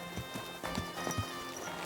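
Hooves of a horse clip-clop in the medieval video game Kingdom Come: Deliverance II, a series of distinct thuds and knocks at a walking pace over a steady ambient hum, with no speech.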